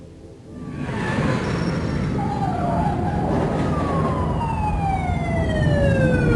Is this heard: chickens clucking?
no